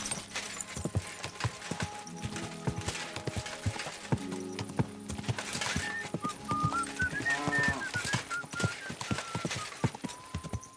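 An expensive-looking horse in the medieval game Kingdom Come: Deliverance II, hooves clip-clopping in a steady walking rhythm close by, with a whinny rising midway and faint ambient tones underneath, no talk.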